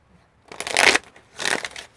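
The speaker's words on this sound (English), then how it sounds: "The cards have been shuffled." Tarot cards being shuffled, two quick riffling bursts of crisp card flutter, close and fairly clear, with no talking.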